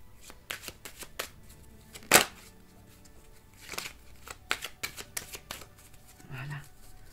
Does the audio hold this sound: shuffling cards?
yes